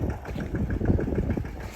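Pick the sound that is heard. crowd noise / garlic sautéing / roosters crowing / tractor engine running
tractor engine running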